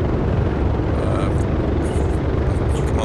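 A helicopter in a flight simulator game runs as a loud, steady rotor and engine drone, close and continuous from start to finish, with a faint high whine on top.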